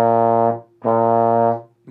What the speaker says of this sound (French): Donc par exemple, je joue un si bémol.